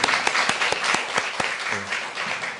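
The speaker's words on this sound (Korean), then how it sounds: "한번 박수 부탁드립니다." An audience at a university seminar in a memorial hall applauds to welcome an arriving guest. Sharp, separate claps stand out over a softer, even bed of clapping for a few seconds.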